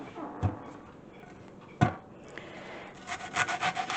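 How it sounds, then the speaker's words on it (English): A knife cuts an onion on a board: two sharp, separate chops, then a quick run of rhythmic close chopping toward the end, with no talk. "we're going to cut our onion."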